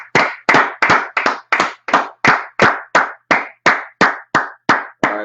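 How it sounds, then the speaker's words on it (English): An audience claps hands in unison at a steady beat, about three sharp, loud claps per second, sustained for several seconds with no talking. "All right, clap it up, clap it up"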